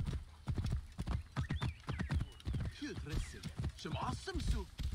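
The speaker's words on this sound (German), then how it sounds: "Mein Pferd hätte ich auch ein bisschen früher rufen können." A horse in Assassin's Creed Origins pounds along in quick, rhythmic hoofbeats, close and loud, with wavering neighs and whinnies breaking in over the gallop.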